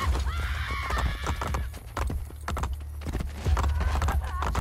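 Horse hooves clip-clop steadily in Assassin's Creed Brotherhood, joined by a loud, drawn-out neigh early on and another whinny near the end, all close and prominent over game ambience.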